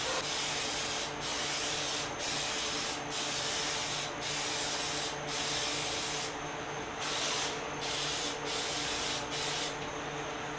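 A fan pulls spray paint overspray away while a retro Cosco stool is painted: a constant hissing airflow under repeated short bursts of aerosol spray that start and stop at a steady rhythm, close and loud.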